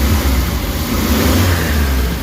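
A Suzuki Carry engine with low power and a knocking issue revs hard at high RPM, a loud, sustained, rough mechanical roar held steadily throughout with no talking.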